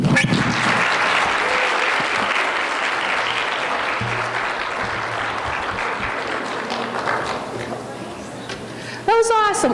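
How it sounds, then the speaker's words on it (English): An audience applauds after a music performance at a Mental Health Week event, with loud, sustained clapping close by that gradually thins, and a voice speaks near the end. "Clap for them louder."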